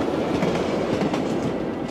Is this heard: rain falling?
no